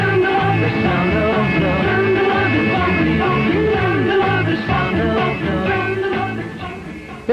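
A loud, full 1960s pop record with vocals and a band plays, steady throughout and fading slightly near the end.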